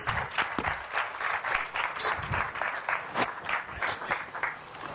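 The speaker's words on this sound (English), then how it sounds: "May we have a round of applause for him, please?" An audience at a school students' day event claps steadily for several seconds, dense applause filling the hall at moderate volume.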